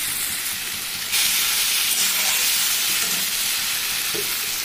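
Water poured into sizzling spice masala in a pan for a Bengali morola fish curry, a loud sudden hiss that settles into steady bubbling sizzle.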